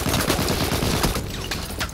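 Rapid gunfire in a Battlefield 1 match on PC, a dense burst of close, loud shots fired in quick succession that thins slightly toward the end, with no voices over it.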